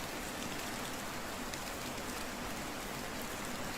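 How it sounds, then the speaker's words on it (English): Heavy rain in the medieval survival game Medieval Dynasty pours down as a dense, unbroken hiss of drops on surfaces, steady and enveloping throughout with no voices. "It didn't rain this hard."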